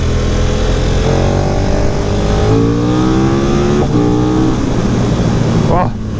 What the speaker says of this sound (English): That sound, even though that it's a stand exhaust, is very nice.